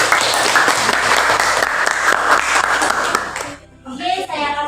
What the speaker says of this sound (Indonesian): berikan tepuk tangan untuk Wah